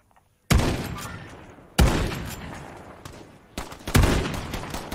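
Call of Duty gunfire rings out in three loud bursts of rapid shots, each one sharp at the start and then fading into a rumbling echo, close by with no talking.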